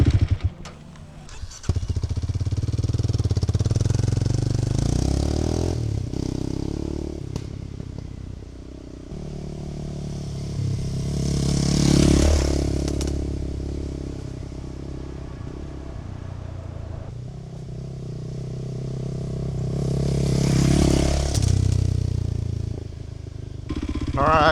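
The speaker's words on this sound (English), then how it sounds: "sounds a little bit like an angry sewing machine, but still an angry sewing machine at heart at only 230 cc" A small 230cc Kawasaki KLX 230 Sherpa dual-sport motorcycle engine buzzes past twice, rising as it nears and fading away, with a high revving whine between passes.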